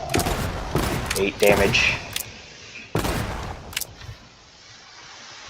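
Pistol-round gunfire in Minecraft with the Create mod, several sharp game shots in quick bursts and single cracks, heard close under a speaking voice.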